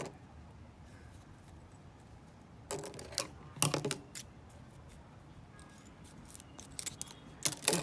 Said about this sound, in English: Now this area, you just trim out the excess zip.